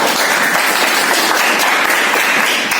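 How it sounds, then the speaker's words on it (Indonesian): Steady applause from a classroom of students clapping for a classmate, dense and continuous at close range with no talk over it. "Kita berikan tepuk tangan buat Pasha."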